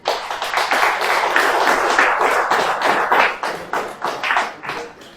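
A church audience applauds with dense, lively clapping that swells and fades over a few seconds.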